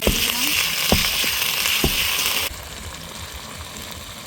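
Chicken kosha cooking, with chicken, spices, cumin and coriander paste and tomato sautéing in a pan. A steady hiss of frying carries scattered small pops, then quietens abruptly partway through, with no one speaking.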